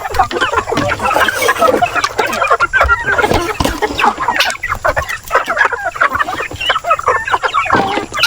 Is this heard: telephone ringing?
no